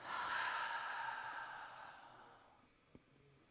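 Breathing during gentle chair yoga: one slow, soft exhale that tapers away, close and faint, followed by quiet room tone and a small click.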